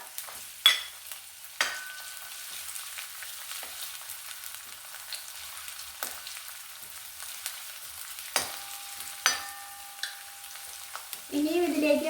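Chopped garlic, added after ginger, fries in a pan for egg rice, holding a low, steady sizzle broken by a few sharp clinks of a spoon or utensil, close and quiet.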